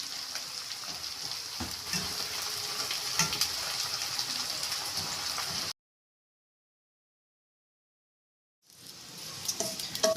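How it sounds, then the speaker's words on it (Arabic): Onions being stirred in a pot while making Egyptian koshari, a soft continuous sizzle and scraping for several seconds, then a few seconds of silence before the sizzle resumes; no one speaks. "نقلب البصل ما ننساهوش"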